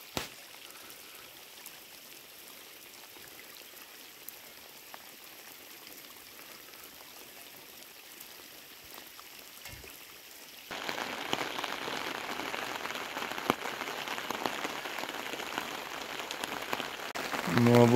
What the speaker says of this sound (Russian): Ну а вот и тест уже не ветреный, а от дождя.